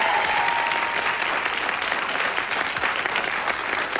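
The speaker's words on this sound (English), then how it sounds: "Now it's up to Graham, who was clapping like mad just there." A TV quiz show studio audience bursts into steady, dense applause, loud and close, a continuous wash of clapping with no break for the full length.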